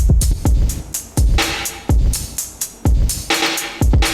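High and low kick drum samples layered together in a beat: a steady run of punchy kicks with deep low thumps and crisp bright attacks, repeating roughly every half second with busier noisy hits in between, no voices.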